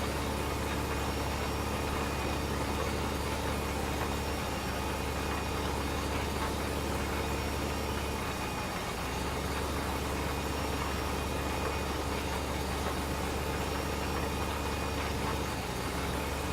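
A tractor engine drones at a steady, even idle in a farming video game on the Tanneberg map. The low hum is loud and continuous, with faint mechanical rattles and no talking.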